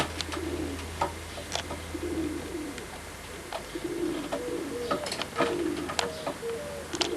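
Racing pigeons coo in a loft, with repeated low cooing phrases overlapping against a steady background hum and scattered clicks and scuffles.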